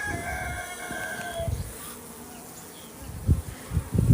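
Honey bees buzz around beehives at an apiary, a faint steady hum close by, with a few louder low bumps and handling thuds near the end.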